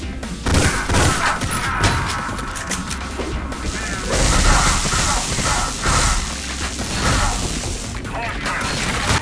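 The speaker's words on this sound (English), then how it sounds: "I do like that the SMG apparently has incendiary bullets." Incendiary rounds from an SMG in the shooter game Ion Fury, dense rapid bursts of loud close gunfire and crashing impacts that continue almost without pause, with a voice speaking over them.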